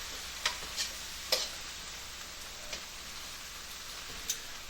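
Garlic sizzles in a pan of crawfish étouffée, a steady bright frying hiss with a few sharp clicks and crackles scattered throughout, close by and with no talking.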